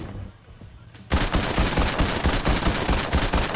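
Rapid, loud bursts of gunfire erupt after a quiet second of talk, a shotgun blasting repeatedly in a video game firefight with dense overlapping shots.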